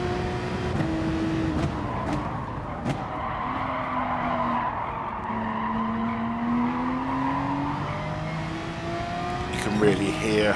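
Racing car tyres squeal and skid in a racing video game, long wavering screeches over a steady engine drone, with a person talking throughout.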